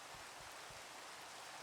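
Steady rain falls in Minecraft, a soft, even hiss of broadband patter with no voices, faint and continuous throughout the short stretch.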